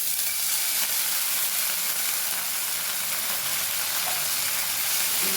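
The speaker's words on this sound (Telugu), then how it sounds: "ఇప్పుడు మెంతాకు ఒక కప్పు వేసుకుంటున్నాం." A cup of fenugreek leaves hits hot oil and fries with a loud, dense, hissing sizzle that holds steady and close throughout, with no voices over it.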